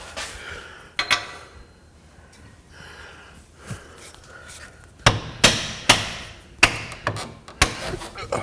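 A hammer taps a part through during a Jeep 4-inch sport lift kit install, with a couple of early knocks and then a run of six firm, evenly paced metallic strikes, close and loud.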